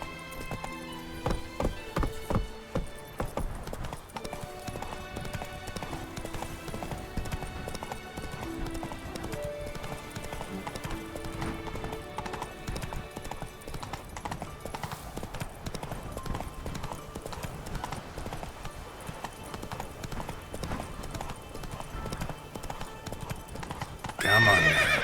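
Roach the horse gallops in The Witcher 3: Blood and Wine, a continuous rapid clip-clop of hooves with neighing, under game music that stays steady before swelling louder near the end.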